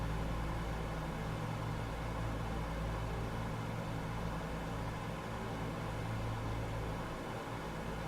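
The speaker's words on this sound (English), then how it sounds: "I can hear the tone of the engine decreasing when I do that" Four-engine DC-6 piston airliner in Microsoft Flight Simulator, a steady loud droning engine tone that fills the whole clip with no break, low and constant throughout.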